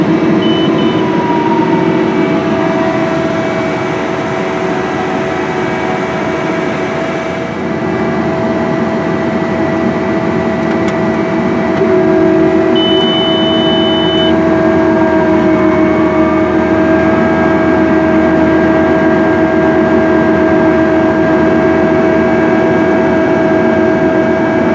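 Case IH Quadtrac 470 tractor with a CVX drive, pulling a corn planter across a field at about 5.5 mph. Its engine gives a steady, loud drone with an even hum and faint whining tones that change little over the whole stretch.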